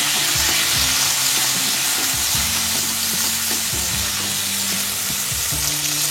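Okra frying in oil with a little salt and turmeric, a steady close sizzle and crackle running throughout, with a low hum and a few stirring knocks underneath.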